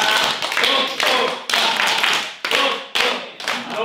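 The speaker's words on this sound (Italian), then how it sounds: "iniziare a battere le mani insieme" A group of people at a spiritual talent-tour gathering in Cermenate clapping hands together in a loud, close, steady rhythmic beat, with sharp individual claps repeating at even intervals.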